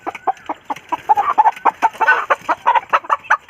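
A chicken clucks close by in rapid, rhythmic bursts, a dense run of short loud calls with a few louder squawks in the middle and no voices.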